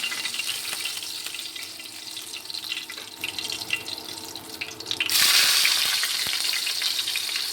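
Pangas fish fries in a pan with a steady close sizzle and crackle, then a louder gushing rush like running water swells in halfway through and carries on to the end.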